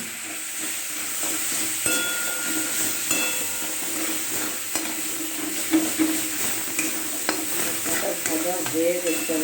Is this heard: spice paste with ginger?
yes